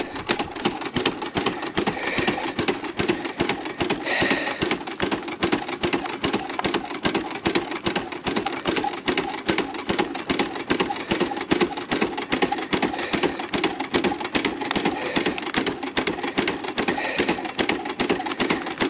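A Keene Engineering dry washer runs steadily, its motor and blower producing a dense, continuous rattling drone with fast regular pulsing that holds at an even level throughout, close by and with no talk.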